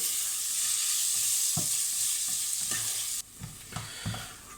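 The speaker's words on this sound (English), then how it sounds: "Now fry these for a couple of minutes in the oil till they're basically cooked through." Lardons fry in hot oil in a casserole pan, a loud bright hiss with soft stirring knocks, the sizzle dropping abruptly near the end while scraping continues.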